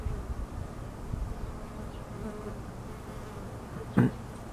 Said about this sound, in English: A lot of native bees.